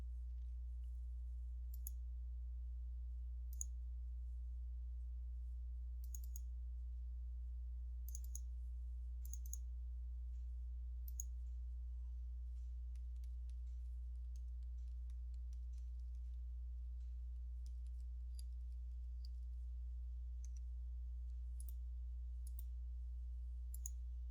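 Computer mouse clicks in Microsoft Word 2019 come in sparse, crisp pairs and singles over a steady low electrical hum, close and quiet, with no talking.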